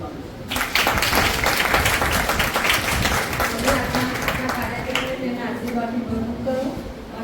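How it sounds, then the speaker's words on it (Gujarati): An audience at a Bible Society of India drawing and writing competition event in Nadiad breaks into loud, dense applause that continues steadily, slowly thinning out, while a speaking voice carries on over the clapping. "તે બધાને વધાવી લેતા આપણે જોરદાર તાળીઓ"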